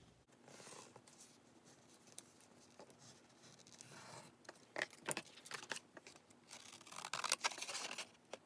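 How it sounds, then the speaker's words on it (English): A pencil traces around a paper tag, giving soft, continuous scratchy scraping with brief rustles and taps of paper handling, close and fairly quiet with no talk. "I'm just gonna trace around my tag that I already have"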